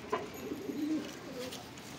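Punjabi pigeons at a bird seller's coop give soft, low cooing calls in a couple of short bursts, fairly close and moderately quiet against light background noise.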